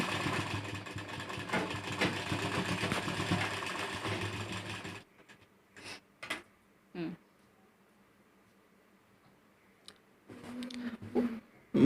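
A sewing machine runs stitches along the edge of fabric in a tailoring class, a steady mechanical whirr for about five seconds that stops, followed by quieter clicks and brief handling noises.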